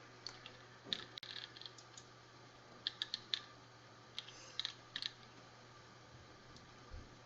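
Clusters of crisp key clicks from an RK61 Royal Kludge compact mechanical keyboard tap out in short uneven bursts, close and fairly quiet over a steady low hum, with no voices.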